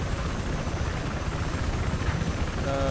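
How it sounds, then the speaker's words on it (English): Loud, close helicopter rotor and engine roar from the Battlefield 4 video game, a steady dense thrum without a break. "No one seems to be taking the chopper, so I will."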